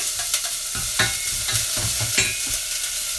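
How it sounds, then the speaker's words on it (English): Chopped red onion hits hot olive oil in a pan for red lentil soup, giving a steady close sizzle with scraping stir strokes and crackles, no talk. "I've chopped up 1 red onion, so I'm just popping that into the hot pan."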